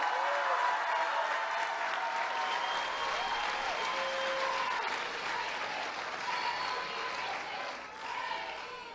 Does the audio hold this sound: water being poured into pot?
no